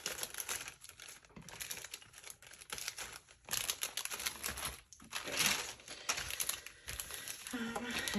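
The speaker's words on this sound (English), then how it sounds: "This is the rest of Liz Tamanaha's kit in this paper bag here." Paper bag crinkling and rustling as leftover craft kit pieces are tucked away, with steady close crumpling noise and a few sharper crackles over several seconds.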